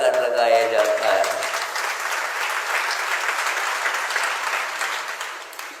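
Steady applause from a crowd at a religious discourse, dense and continuous throughout, with a brief sustained tone at the start before the clapping fills in.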